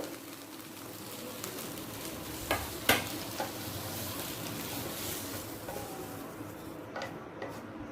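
Potatoes and soya chunks frying in oil in a pan, a steady sizzle broken by a few sharp scrapes and clinks of a spatula stirring against the metal.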